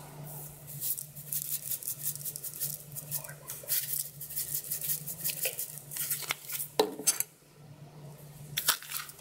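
Sand and colored sugar being stirred together in a dish, giving a steady gritty patter and scraping with a few sharper clinks near the end, close and fairly quiet with no voices.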